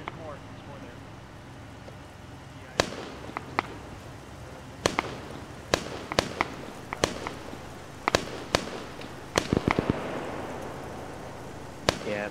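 In Arma 3, an RPG rocket launcher fires and its rocket explodes amid a battle, heard as a string of sharp, loud bangs and cracks spaced irregularly over a steady background rumble.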